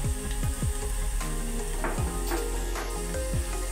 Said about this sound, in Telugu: చేసిన పచ్చిమిర్చి, అలానే ఒక ఉల్లిపాయ, సన్నగా చాప్ చేసిన ఉల్లిపాయ మంచిగా ఫ్రై అయిపోయింది కదా.